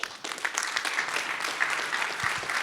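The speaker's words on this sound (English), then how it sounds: "Clap that up." Audience applause at a hall of fame panel event, a dense steady patter of many hands clapping throughout, moderately loud with no voices over it.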